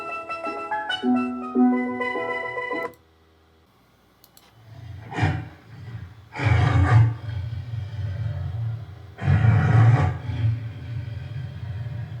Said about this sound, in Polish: tygrys chyba miał kaszel